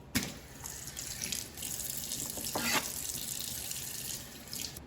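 Tap water runs into a kitchen sink as cut beef for stew is rinsed under it, a steady close gush with small splashes and shifts in the flow.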